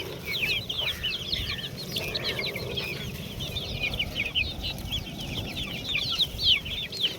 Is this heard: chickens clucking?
yes